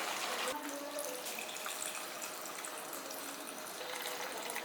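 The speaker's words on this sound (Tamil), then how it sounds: "இது தேவையான அளவுக்கு தண்ணி ஊற்றிக்கலாம்" Water pours steadily into a pot of country chicken curry, a continuous splashing hiss that runs throughout at a moderate, close level.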